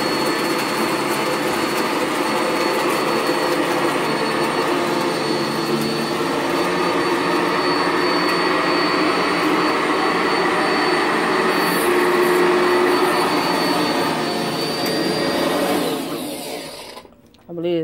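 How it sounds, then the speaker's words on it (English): A Sanitaire SC679J upright vacuum cleaner runs with a steady high whine and airy roar, then cuts out abruptly near the end. "I am lifting up the vacuum"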